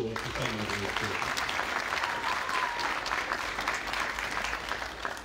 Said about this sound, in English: I think one more round of applause for someone who is.